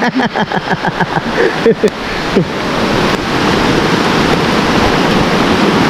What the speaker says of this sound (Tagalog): Yan ba yung ulan o? Ulan.